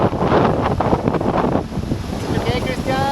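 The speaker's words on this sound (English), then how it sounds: "It was much more wind than the previous 2 races" Strong wind buffets the microphone aboard a sailboat racing near the Lerkil coast, a loud, continuous roar with gusty surges and wash of water beneath, and faint voices briefly audible near the end.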